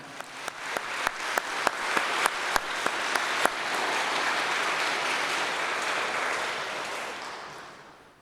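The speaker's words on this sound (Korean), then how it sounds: "감사와 환영 인사로 박수로 표시해 주시기 바랍니다." A church congregation claps for the departing pastor and his wife, starting with a few distinct hand claps that quickly swell into sustained, even applause before slowly fading.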